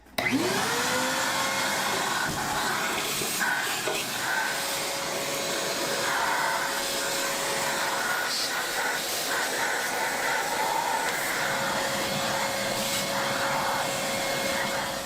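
A shop vacuum cleaning out an Amana electric clothes dryer whirs up and runs steadily, a loud continuous roar with a hissing airflow and a faint whine, no voices.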